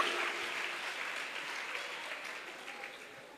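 Congregation at a church service clapping together, a dense, steady wash of applause that stays fairly loud and gradually tapers across the clip, with no voices standing out.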